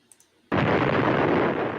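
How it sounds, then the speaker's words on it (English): Russian footage of a hydrogen bomb explosion: after a half-second of near quiet, a loud, sudden blast erupts into a dense, sustained roaring rumble that fills the rest of the moment. "This is a hydrogen bomb."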